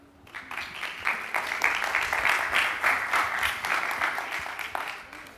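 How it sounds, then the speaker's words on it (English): An audience at a summit applauds a speaker, the clapping swelling quickly, holding full and steady for several seconds, then thinning at the end. "So please give a big round of applause to Jeremy."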